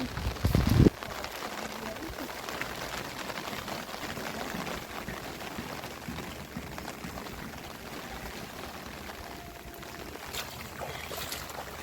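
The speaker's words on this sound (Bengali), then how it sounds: "বৃষ্টি হচ্ছে" Rain pours steadily onto surfaces around a rural home in the Sundarbans, a dense, continuous patter close by, opening with a loud thump, with faint voices now and then beneath it.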